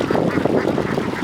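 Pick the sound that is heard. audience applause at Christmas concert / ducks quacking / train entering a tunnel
ducks quacking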